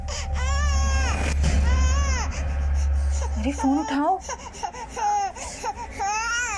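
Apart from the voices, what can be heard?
baby girl crying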